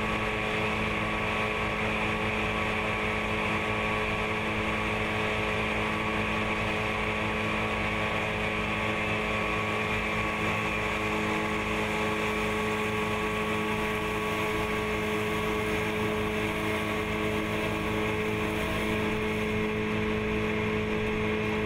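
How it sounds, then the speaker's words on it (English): A tractor PTO drives a KRONE disc mower at rated speed, giving a steady, loud droning hum with constant engine and gearbox tones and windy rumble throughout, no voices. "Then switch the tractor PTO to idle and slowly bring it to the rated speed of the machine."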